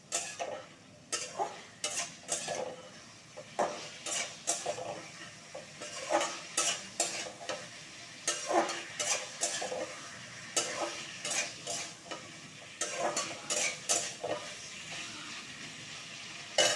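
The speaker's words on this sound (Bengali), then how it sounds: "ডাঁটা আলু ভাজাটা আমি দিয়ে 2 মিনিট একটু মশলাটাকে মিশিয়ে নেব।" A spatula repeatedly scrapes and stirs fried potatoes and vegetable stalks with spices in a pan, giving rhythmic scraping strokes over a soft, steady sizzle.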